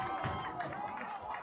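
A large crowd fills a high school football stadium at a fall jamboree, B.B. Comer against Sylacauga, its dense, steady murmur and scattered cheers rolling on without a break.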